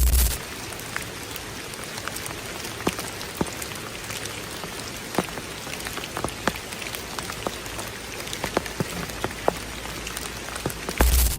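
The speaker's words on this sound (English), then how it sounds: "A woman is camping alone in a flooded forest where the rain never lets up." Steady rain patters on leaves and surfaces all around, with scattered louder drips standing out against the constant hiss.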